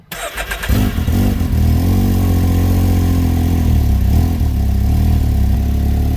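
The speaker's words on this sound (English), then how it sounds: "So we're going to start the car." A Can-Am Maverick X3 engine cranks briefly, catches and roars up, then settles into a loud, steady idle close by.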